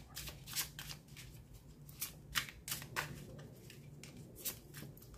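Tarot cards are shuffled by hand before a reading, giving a soft, close series of irregular riffling and slapping bursts with no talk.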